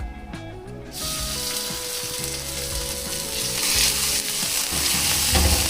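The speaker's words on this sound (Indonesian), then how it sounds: "Kita tumis pakai api kecil aja nih teman-teman. Daun bawang ini kalau kita tumis seperti ini wangi banget." Spring onions sautéing over low heat in oil previously used for frying tofu: a steady, dense sizzle and crackle that swells after the greens go into the pan, continuous and close.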